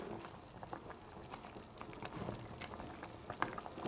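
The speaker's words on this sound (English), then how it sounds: "so just leave it, let it boil" Catfish native soup boiling in a pot, a soft, steady bubbling and simmering heard close up on its own without any talking.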